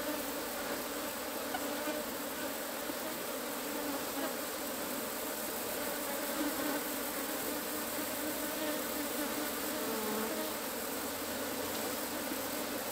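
An Apis honey bee swarm buzzes steadily while smoke is puffed over it, a dense, unbroken droning hum from many bees filling the whole stretch at close range, with no voices.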